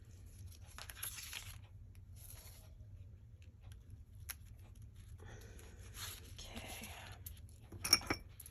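Dimensional craft tape torn off its roll while assembling a Christmas folio; faint, brief tearing and crinkling in a quiet room, with a sharper rip near the end.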